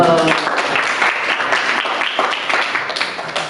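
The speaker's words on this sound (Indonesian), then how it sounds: "tepuk tangan dulu" A classroom of students claps together in a burst of dense applause that stays steady, then thins out toward the end, with faint voices underneath.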